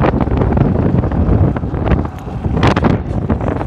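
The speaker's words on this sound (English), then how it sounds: "I know it's so windy" Strong wind buffets the microphone in loud, uneven gusts outdoors at night in Shanzu, Mombasa, producing a rough continuous roar.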